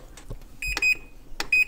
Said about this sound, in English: I'm going to put a timer on.